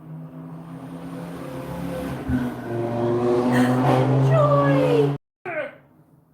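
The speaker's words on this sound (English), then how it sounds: "Sorry about that loud car." A loud car passes outside, its engine swelling from a low rumble to a revving roar before cutting off abruptly; a person speaks briefly over it.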